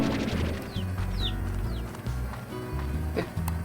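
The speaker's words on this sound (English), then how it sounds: "There's a chicken, there's a chicken." A chicken in the video game Slime Rancher clucks a few times over a bouncy music track, the short clucks fairly faint against the game soundtrack.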